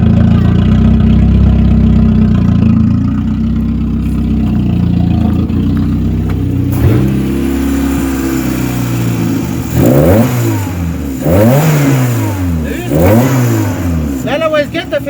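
A homemade turbo Peugeot 106 engine idles roughly, then revs up in several sharp, rising bursts that fall back between them, loud and close, with a voice talking early on.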